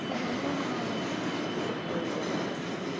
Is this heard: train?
yes